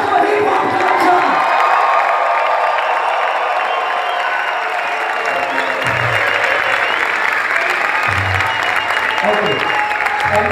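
A large crowd at a kids' breaking championship final cheers and claps loudly and continuously, with whoops and shouts rising out of the roar of applause.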